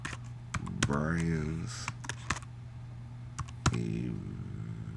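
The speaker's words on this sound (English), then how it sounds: "I'm going to type in" Fingers tap out quick, uneven clicks on a computer keyboard, up close, while someone talks over the typing.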